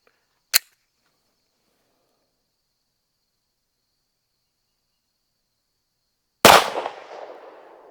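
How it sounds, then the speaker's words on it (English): Two sharp gunshots from a PX-5.7 Raptor firing FN full metal jacket rounds, one crisp crack near the start and a louder blast about six seconds later with a trailing echo, separated by silence. "We're shooting the FN brand Full Metal Jacket"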